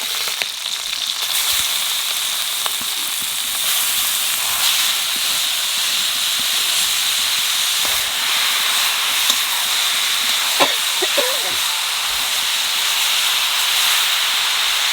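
Greens dropped into hot oil with black cumin and green chilies, releasing a loud, steady hissing sizzle with occasional faint utensil knocks.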